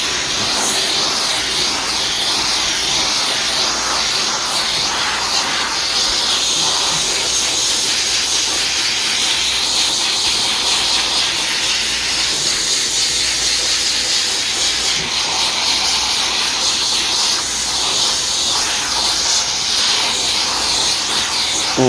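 Steam cleaner with enzyme cleaner hissing continuously and loudly under pressure, a broad, unbroken rush of steam with no pauses.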